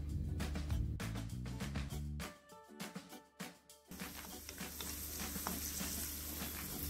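Cashew nuts and raisins frying in melted ghee in a pan: close clicking stirs and scrapes give way to a brighter, steady sizzle in the last few seconds.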